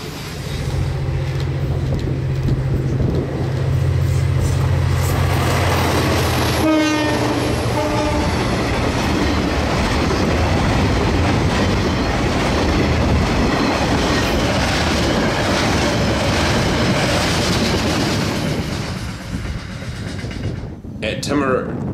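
A KiwiRail freight train on the Main South Line in New Zealand rumbles loudly past for a long stretch, with a brief horn early on and steady rolling wheel noise that fades near the end.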